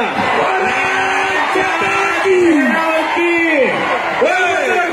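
Dense, loud crowd roaring and whooping at a traditional kushti wrestling bout in Maharashtra, with voices swelling and shouting continuously throughout.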